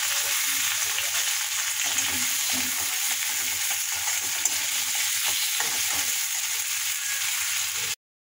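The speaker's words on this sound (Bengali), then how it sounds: "পেঁয়াজটা একটু ভাজা ভাজা হলে তারপর আলুটা দেবো।" Onions, chilli and ginger fry in hot oil in a wok, giving a steady, fairly loud sizzle for about eight seconds before cutting off abruptly. No one talks.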